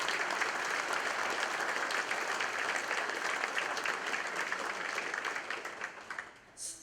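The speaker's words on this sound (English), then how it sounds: "So how about a round of applause for all of these individuals?" Steady, full audience applause at a community college ribbon cutting for a new workforce and nursing building, a sustained wash of many hands clapping that stays even, then tapers off near the end.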